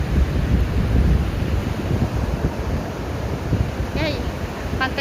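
Surf and wind on a Bali beach at sunset, a steady broad roar of waves and gusts buffeting the microphone, loud and continuous, with a faint brief chirp near the end.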